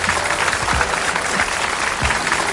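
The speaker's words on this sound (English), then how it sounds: "So I think he deserves a big round of applause for that." A studio audience claps in steady, dense applause, loud and close, sustained across the whole stretch with no talking over it.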